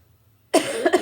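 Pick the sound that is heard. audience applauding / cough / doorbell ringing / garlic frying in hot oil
cough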